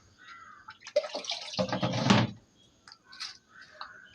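Water poured into a cooking pot while preparing a fried snail dish, heard as a close splashing pour in a couple of bursts, strongest in the middle, with quieter clinks and trickles afterward.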